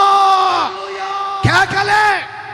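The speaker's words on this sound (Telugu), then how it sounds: "కేకలే," Loud shouting and yelling voices at a Christian church gathering during a tabernacles festival, with long strained cries, a brief break, then another surge of raised voices close up.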